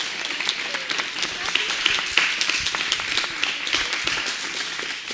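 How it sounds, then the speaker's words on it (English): An audience at a Sai Center devotional program in Dallas gives a sustained round of applause for children who sang bhajans, with many hands clapping in a dense, continuous wash and scattered individual claps standing out. "let us give big applause to children"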